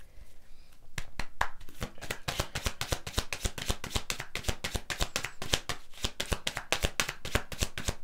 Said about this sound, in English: I cut the deck